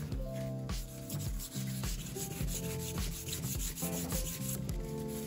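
A plexiglass edge is sanded by hand with 320 grit sandpaper, producing continuous rhythmic rubbing strokes that are close and fairly loud, with a faint high whine in the background and no talking.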